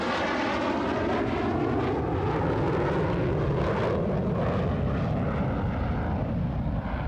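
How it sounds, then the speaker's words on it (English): A General Dynamics F-16 fighter jet's engine roars loudly and continuously, a broad, steady rush of aircraft noise that holds throughout without any voices. "The F-16 is a dual-role fighter"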